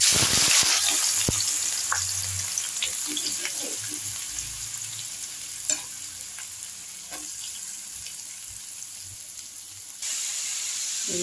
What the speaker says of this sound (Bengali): তেলের মধ্যে সর্ষের তেলই নিয়েছি, আপনারা চাইলে সাদা তেলও করতে পারেন। তার মধ্যে আমি গ্রেট করা ওই পেঁয়াজ কুচিগুলো দিয়ে দেব।